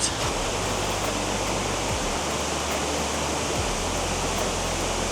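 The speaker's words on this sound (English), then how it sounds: "the Sarika Waterfall, it's the most famous in Nakhon Nayok" Steady broadband roar of the nine-tiered Sarika Waterfall in Nakhon Nayok, a dense continuous rush of falling water heard up close with no voices over it.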